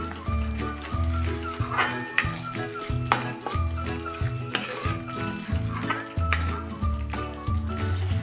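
Tomatoes and masala sizzle steadily in hot oil while a spoon stirs and scrapes, clinking repeatedly against the metal pan in an uneven rhythm, close and fairly loud with no talking.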